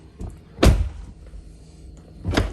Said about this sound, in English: now once that's there, we just close the door